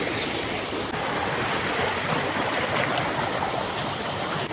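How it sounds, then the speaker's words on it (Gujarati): Water rushing at the Machchhu dam near Morbi, a steady, dense roar that stays close and even in loudness from start to finish, with no talk. "કેવું પાણી હેલું જાય."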